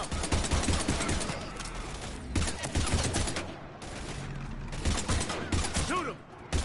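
Rapid gunfire bursts from Mass Effect 3 combat crackle almost continuously, with dense overlapping shots, a brief lull near the middle, and voices in the background.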